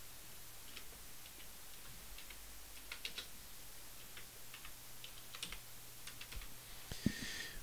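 Someone types a name on a computer keyboard: faint, close key taps in short irregular runs over low background hum, ending with a slightly louder click.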